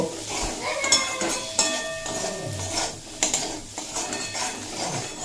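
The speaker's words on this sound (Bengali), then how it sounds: "আর দিয়ে দেব একটুখানি লঙ্কার গুঁড়ো দিয়ে আবারও এক মিনিট মতো নাড়াচাড়া করে নেব" Egg curry with boiled eggs, onion, potato and chili powder is stirred in a pan, giving metallic clinks and spatula scrapes over a faint sizzle that carry on steadily throughout.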